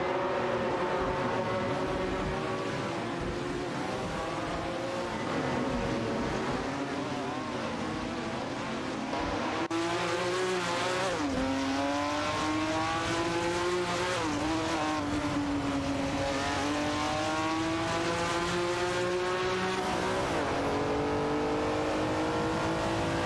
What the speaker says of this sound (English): Fujistero in the Chevrolet Camaro Z 2869 and Finowski in the Plymouth Superbird 70 are currently locked in a tight battle for the 27th position